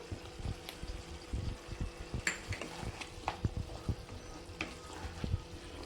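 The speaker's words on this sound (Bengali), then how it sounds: "এবার আমি একটু নাড়াচাড়া করে নেব নিলেই রেডি হয়ে যাবে লাউ চিংড়ি" Bottle gourd and shrimp curry being stirred in a pan, with soft scraping and clacks of the spoon over a gentle, even sizzle, close and fairly quiet.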